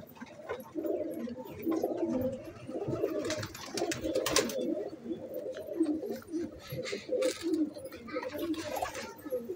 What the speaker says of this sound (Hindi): एक कबूतरी